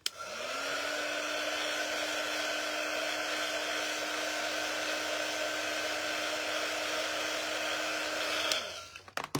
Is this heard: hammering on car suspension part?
no